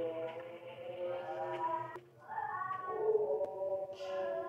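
Cat meowing in the PlayStation 4 game Tsugonohi (Cat Ghost), several drawn-out meows with rising and falling pitch over a low background hum, clear and close, no talk.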